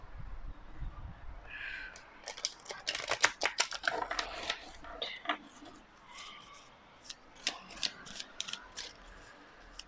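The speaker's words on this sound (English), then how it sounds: "let's get shuffling." Tarot cards are shuffled by hand in bursts of quick riffling and flicking, crisp papery clatter close to the microphone with short pauses between runs, no talking.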